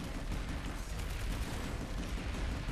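Gunfire in the video game Planetside 2: dense, rapid automatic shots pour out in a continuous loud barrage with no pause and no speech.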